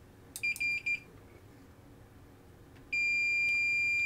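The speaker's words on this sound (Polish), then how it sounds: "Jeszcze odpalmy brzęczka." A continuity tester buzzer beeps on a short circuit in an Xbox Series X, first a few short, sharp tonal bursts, then after a pause one steady, loud continuous tone.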